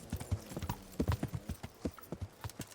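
Horse hooves clip-clop at a steady trot in the medieval game Kingdom Come: Deliverance, with quick, evenly spaced thuds that sound fairly close but are recorded at low volume.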